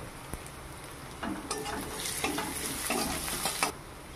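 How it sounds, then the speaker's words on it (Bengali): Chopped onion with a little salt frying in a pan, a quiet sizzle that swells as a spatula stirs and scrapes through it in several short strokes. "সামান্য একটু লবণ দিয়ে দেবো যাতে পেঁয়াজটা তাড়াতাড়ি ভাজা হয়ে যায়।"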